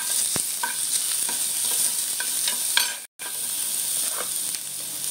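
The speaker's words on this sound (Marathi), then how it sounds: "कढीपत्ता, कांदा आणि 1 चमचा आलं लसूण पेस्ट फोडणीसाठी टाकला।" Curry leaves, chopped onion and ginger-garlic paste crackle in hot oil for a tempering in a Malvani pomfret fish curry, a continuous bright sizzle with scattered spatters and stirring scrapes and one brief cut-out midway.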